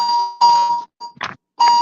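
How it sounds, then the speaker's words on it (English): An electronic device beeps nearby: two clear, ringing tones, a brief rustle, then another beep, loud and distinct with no talking. "Your thing's beeping, Lambo."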